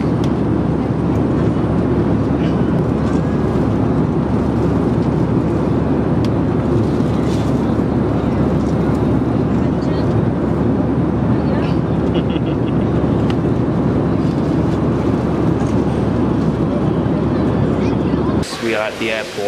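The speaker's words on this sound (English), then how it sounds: "We are at the airport." Loud, steady roar of aircraft noise fills an airport for nearly the whole stretch, dense and unbroken, then drops away abruptly near the end.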